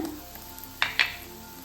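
Ginger garlic paste with chili powder frying in hot oil for tomato sambar, giving a soft steady sizzle with two sharp bursts of crackle as the paste hits the pan, no voices.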